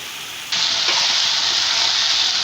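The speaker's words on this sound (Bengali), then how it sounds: "মশলাটাকে আমি একটু ভেজে নিয়েছি একদম" Spice masala frying in a pan for a pangas fish curry, a sudden jump into a loud, continuous hissing sizzle that holds steady to the end.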